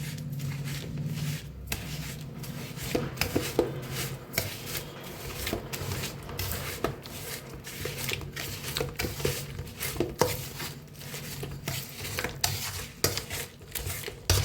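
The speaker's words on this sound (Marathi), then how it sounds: "तर हे रव्याला बी एकदा ह्याच्याबरोबर मिक्स करून घेऊया आपण" Semolina, salt and grated jaggery stirred together in a pan make a steady, close scraping and rustling with repeated light clinks of a utensil against the metal, continuous for the whole stretch.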